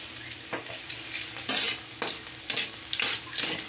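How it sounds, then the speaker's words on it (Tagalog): Garlic hits a hot wok and fries with a loud, close hiss, broken by periodic scraping bursts as it is stirred, while cooking pancit dughit. "Init na ang ating kawali guys, ilagay na ang bawang"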